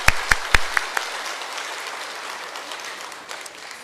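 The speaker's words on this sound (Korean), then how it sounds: "우리 박수로 하나님께 영광 돌리겠습니다." A church congregation claps briefly, with a few sharp, distinct claps up front before the sound thins into a soft wash of scattered clapping and room noise.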